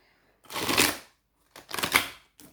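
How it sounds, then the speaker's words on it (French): A deck of oracle cards being shuffled in two distinct riffling bursts, each about half a second long, close and clear with a short pause between them and a brief third start at the end. "dans un premier temps, je vais mélanger mes cartes"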